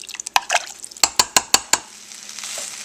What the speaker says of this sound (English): Stir it all in there with the milk and the butter and the parsley.